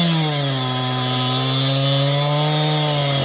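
Chainsaw cutting wood runs loud and close, holding a continuous high-revving whine that stays steady throughout with only slight shifts in pitch.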